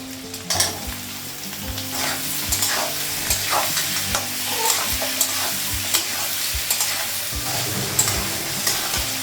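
Bottle gourd and onion fry in a pan, a loud continuous sizzle punctuated by regular scraping and tapping strokes as a spatula stirs them, with no talking.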